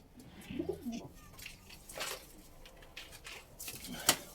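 A pigeon gives a faint, low coo nearby, followed by soft rustling and a brief sharp tap in an otherwise quiet space.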